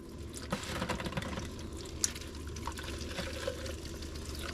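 Running water from a Campanion Aqua Shower portable water heater, just primed, a continuous low splashing flow with scattered drips and small spatters, moderately quiet and unaccompanied by voices.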